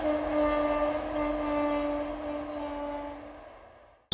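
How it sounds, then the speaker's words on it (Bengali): A train sounds a long sustained horn as it runs over a bridge across a river, the tone fading as it passes, with a rumbling rail bed underneath and no voices. "মাঝে মধ্যে ব্রিজের ওপর দিয়ে হর্ন বাজানো সব ট্রেনেতে ছুটে যাওয়া।"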